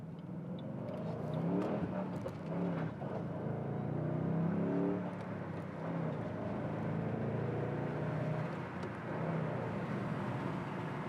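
A 2008 Ford Mustang Bullitt engine revs up through several gears, rising in pitch, dropping at each shift, then climbing again, heard from inside and fairly subdued.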